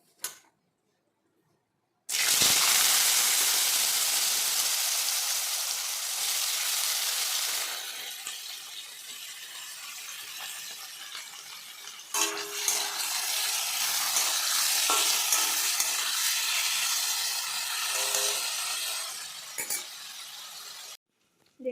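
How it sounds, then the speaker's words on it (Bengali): Potatoes fry in oil in a pan, a steady loud sizzle that starts abruptly and runs for about twenty seconds, with occasional clinks of a utensil stirring against the pan. "আলুটা ভেজে নিই।"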